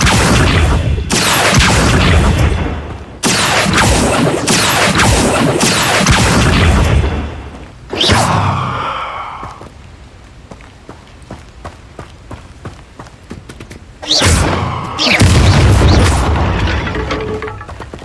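Spell blasts go off in the video game Hogwarts Legacy as loud booming bursts in quick runs, separated by quieter stretches of footsteps and clicks, then several more heavy blasts near the end.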